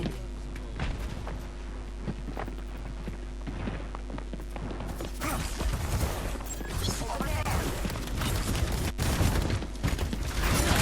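Rapid gunfire rattles through a match of the video game Overwatch 2, with dense bursts of shots that grow louder and busier in the second half, mixed with footsteps and a voice talking over the action.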